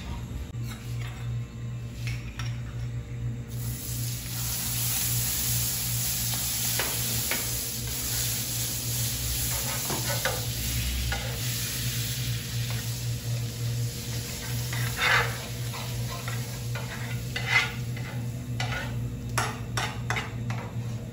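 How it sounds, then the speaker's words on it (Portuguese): Filet mignon medallions sear in a hot pan with a steady close sizzle, occasional utensil clinks and scrapes against the pan, continuing throughout without talk. "eu vou selar os bifes"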